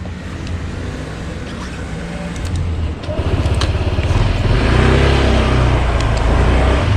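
A 2021 Honda PCX125 scooter engine starts up on a sunny day and settles into a steady mid-pitched idle, building in loudness after about three seconds and holding close and continuous with no voices.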